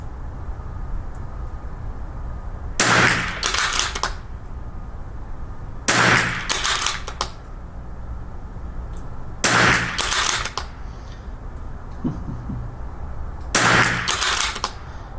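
A .22LR rifle firing Lapua Long Range ammunition, four sharp, close single shots spaced a few seconds apart, each followed by a brief mechanical rattle, over quiet outdoor background.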